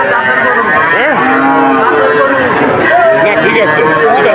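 Cattle and calves low and moo repeatedly at the Satmail cattle market in Jessore, with several bellows close by over a constant crowd babble and talk.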